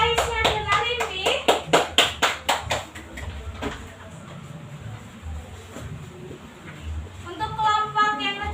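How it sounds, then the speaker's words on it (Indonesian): A classroom of students claps for a presenting student group, a burst of loud, rhythmic applause that fades out after a few seconds into quieter room noise. "Beri aplaus dulu untuk kelompok Aisyah dan Arindi."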